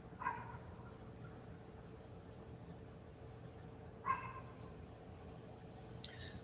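Two sharp dog barks ring out a few seconds apart at a distance over a constant high hum of crickets, followed by a fainter third yelp.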